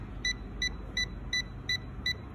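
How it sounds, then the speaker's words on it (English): A UNI-T digital clamp meter in non-contact voltage mode beeps near a live AC wire: six short, bright electronic beeps at an even, quick rhythm over a low background hum. "there is a red light signal beeping. So it means there is a presence of AC voltage here."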